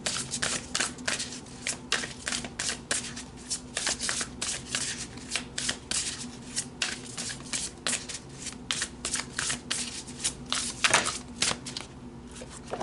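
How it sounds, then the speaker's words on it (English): Oracle cards are shuffled close by in quick, rapid riffles, a dense run of papery flicks and slaps that continues for about thirteen seconds with brief uneven pauses and no talk. "All right, so let's pull some more cards."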